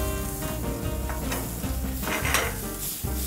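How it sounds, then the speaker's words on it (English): Butter sizzles loudly with peas in a sauté pan, a dense, continuous frying hiss broken by stirring scrapes and light clinks of a utensil against the pan, with no speech. "We're gonna add a little bit of butter at this point."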